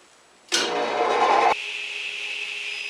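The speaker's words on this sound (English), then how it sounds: "I've got the radial arm saw set up for ripping at this point" A radial arm saw rips through a board, a loud broadband cutting roar lasting about a second before the blade spins on alone with a steadier, thinner whine.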